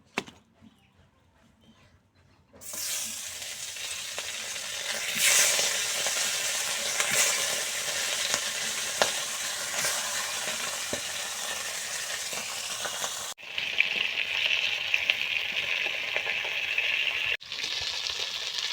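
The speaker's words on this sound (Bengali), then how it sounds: "এই যে মাছ ভাজা হয়ে গেছে উঠে নেবো।" Fish fries in hot oil in a wok, a steady close sizzle and crackle that begins abruptly and runs almost throughout, with occasional stirring clatter and a brief cut near the end.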